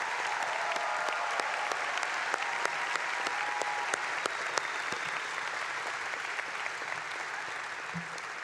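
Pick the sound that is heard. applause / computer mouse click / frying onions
applause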